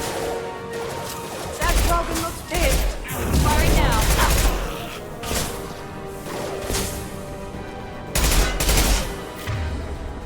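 Repeated bursts of gunfire in Mass Effect 2, loud clustered volleys with crashes and whooshes, mixed with voices talking throughout.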